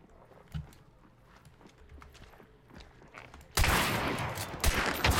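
Shotgun fire in a hunting video game: a few scattered sharp reports and clattering footsteps, then a dense, loud burst of blasting and rumble fills the last stretch, with no talk over it.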